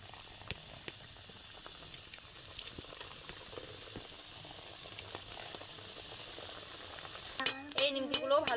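Nimki dough strips fry in oil in a wok with a steady low bubbling sizzle and scattered crackles. A brief stirring or clattering burst comes near the end.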